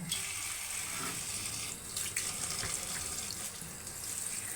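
Tap water runs steadily into a sink as fresh cane shoot greens are rinsed by hand, a continuous close splashing with small bursts and no talk.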